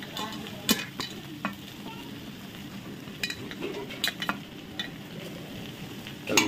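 Vegetables for veg chowmein (onion, carrot, cabbage, sweet corn) stirred and frying in a pan: a steady close sizzle with scraping stirs and a few sharp utensil clinks, no talking.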